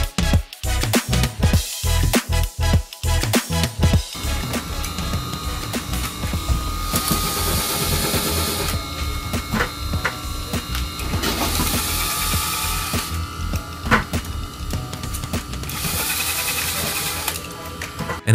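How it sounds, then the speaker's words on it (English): A factory lathe spins a new saucepan while a sharp blade cuts concentric rings into it, giving a loud, steady mechanical whir. Rapid rhythmic clatter opens it, then a continuous grinding drone continues. "Rapid rotation and a sharp blade work together to expose the concentric rings on the new saucepan."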